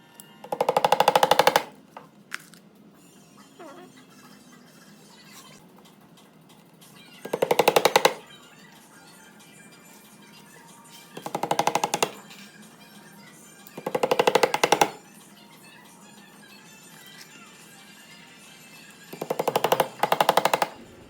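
Five short bursts of rapid tapping as nails are hammered into a shoe last, evenly spaced several seconds apart, with quiet pauses between each round of hammering.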